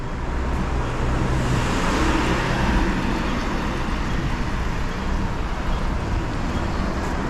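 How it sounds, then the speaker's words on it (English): Steady roar of car traffic on a busy Macau street along the Cotai Strip at dusk, vehicles rushing past close by in a continuous, loud wash of engine and tire noise with no talking. "Fast cars."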